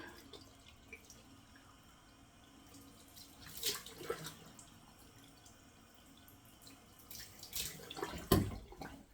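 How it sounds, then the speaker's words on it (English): A bathroom sink tap runs cold water in a low, steady hiss, broken by two louder splashes as water is thrown onto a face. No one speaks. "turn the sink on to cold. Just do 2 splashes of cold water"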